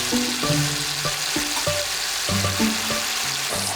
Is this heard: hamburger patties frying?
yes